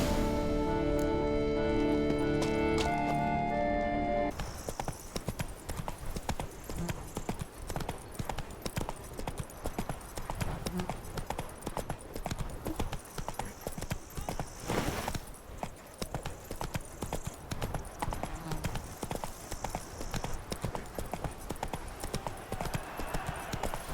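Roach the horse trots through The Witcher 3 video game, her hooves clip-clopping in a steady, close rhythm for about twenty seconds after a short burst of music at the start.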